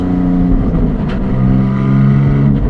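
Porsche 718 GTS 4.0 engine droning loudly and steadily as it is driven through manual gear changes, its pitch shifting partway through with no break in the sound.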